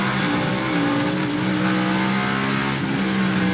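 Mark Martin's Valvoline Ford stock car roars steadily from onboard during the 1998 NAPA Autocare 500, a loud, continuous engine drone at high revs that shifts slightly in pitch.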